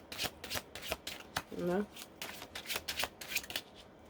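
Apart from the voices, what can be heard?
shuffling tarot cards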